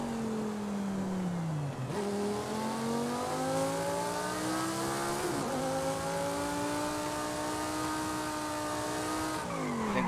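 A race car in a racing video game: a steady engine drone rising through the gears, with shifts and long tire squeal as it corners, continuous and loud with no talking.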